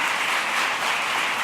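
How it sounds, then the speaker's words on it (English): Audience applause at an International Women's Day event, a dense wash of clapping holding steady and fairly loud throughout, with no talking. "Give yourselves a round of applause."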